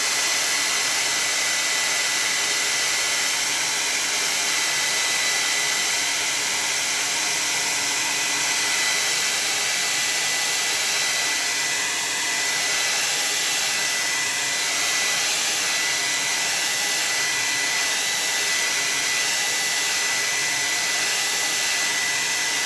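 A handheld hair dryer blows steadily to dry wet watercolor paint on paper, a loud continuous airy whir that holds unchanged for the whole stretch with no talking.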